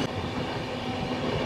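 The Howrah Rajdhani Express rumbles steadily along the rails, a loud, continuous dense roar of wheels and carriages with a faint clatter underneath, passing close by.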